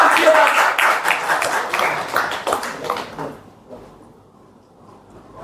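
Audience applause at an award ceremony honoring Professor Bhim Singh's death anniversary fills a hall with dense clapping for about three seconds, then fades to quiet room murmur.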